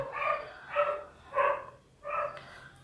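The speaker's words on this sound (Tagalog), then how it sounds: "Tahon ng tahon yung aso." A dog barks four times at a steady, even pace, each bark clear and moderately loud against a quiet background.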